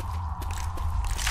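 Someone reloads a weapon in Left 4 Dead 2, with a few quiet mechanical clicks and scrapes over a steady low hum.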